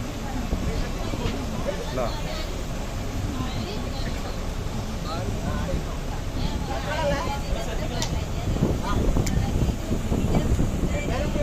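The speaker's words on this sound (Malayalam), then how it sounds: "അപ്പം അതുവഴി ഒരു ബോട്ട് പോകുന്നുണ്ട്" A boat passes on open water near Vypin in Kochi, with a steady engine rumble under wind buffeting the microphone and a background of people talking throughout.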